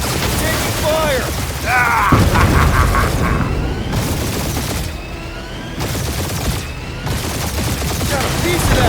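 Sustained battle gunfire and booms from Marvel's Guardians of the Galaxy on PS5 Pro roll on continuously, dense and loud, with characters talking over the fighting.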